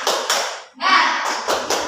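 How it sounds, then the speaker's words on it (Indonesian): A classroom group performs the tepuk semangat, a rhythmic clapping chant, with a few loud, sharp claps in bursts over spoken chanting voices, close and lively. "Tepuk semangat"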